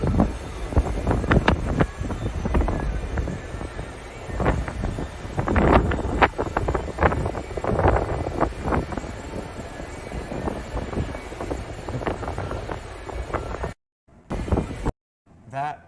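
Loud gusting wind buffeting the microphone with a rushing roar of stormy surf at a beach in Provincetown, surging and easing in waves; it cuts out briefly near the end.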